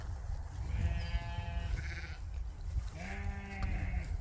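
Sheep bleat in a shaded silvopasture of rough grass and shrubs, two drawn-out calls about two seconds apart over a steady low rumble of wind or outdoor noise.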